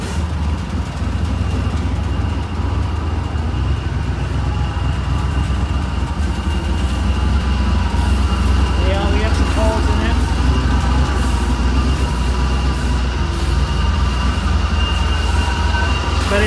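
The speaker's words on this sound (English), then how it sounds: "It's a little loud because the exhaust has a couple holes in it." A loud, rough 1982 Imperial engine rumble runs steadily throughout, with a raspy exhaust drone leaking through holes and some faint rattling; a voice talks over it at times.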